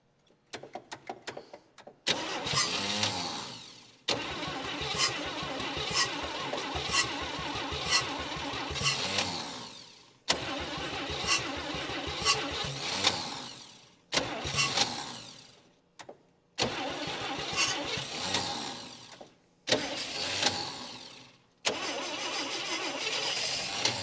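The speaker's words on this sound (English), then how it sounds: "The starter just isn't helping me here at all." 1959 Chevy Biscayne that sat 20 years in a Kansas lean-to, its starter cranking the engine in repeated bursts of several seconds each, separated by short pauses, loud and close without catching, with no voices.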